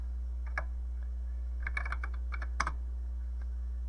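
Keys clack on a TRS-80 Model 1 computer keyboard with bad key bounce, in uneven clusters of light taps over a steady low electrical hum.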